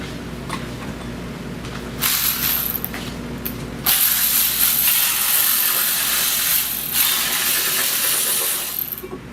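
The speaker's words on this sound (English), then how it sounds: "power ratchet." A power ratchet works on 17 mm bolts of a 2012 Kia Sorento in a shop. A loud, hissing, whirring burst runs for about two seconds, then a longer sustained run follows after a short pause, with no talk.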